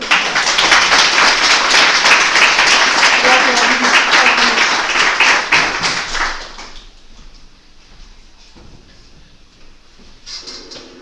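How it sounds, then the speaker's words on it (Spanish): An audience applauding after a speech, strong sustained clapping with a few voices for about six seconds, then fading to a quiet room with scattered knocks and faint talk. "y por favor, un fuertísimo aplauso."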